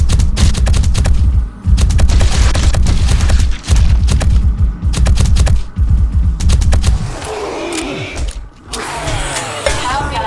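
Loud, rapid bursts of video game gunfire dominate the first seven seconds in a run-and-gun shooter, with dense repeated shots, then give way to softer game effects and explosions.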